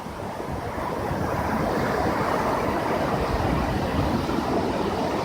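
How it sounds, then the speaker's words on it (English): Mellow wind blowing outdoors, a steady broad rushing hiss with surf-like texture, moderately loud and continuous, with no voices. "it's kind of windy here"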